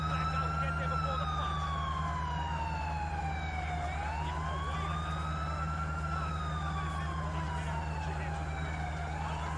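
A police car siren in Grand Theft Auto IV wails continuously in slow rising and falling sweeps over a low steady vehicle engine hum, loud and close throughout.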